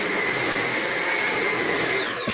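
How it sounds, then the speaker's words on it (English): A vacuum cleaner runs steadily at close range, a loud continuous whine with a high motor tone that dips in pitch just before it cuts out at the end. "Vacuum by the sound of it."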